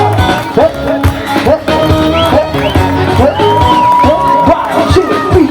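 An audience at an antakshari and one-minute game competition during a bhajan week festival, a loud close crowd of cheering, whooping and shouts with children's voices mixed in throughout.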